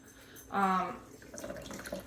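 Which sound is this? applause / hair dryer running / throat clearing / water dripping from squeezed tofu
water dripping from squeezed tofu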